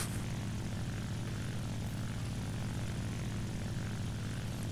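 Propeller aircraft engine in the War Thunder video game, a continuous low droning hum with a rapid pulsing beat, steady and unbroken with no talk over it.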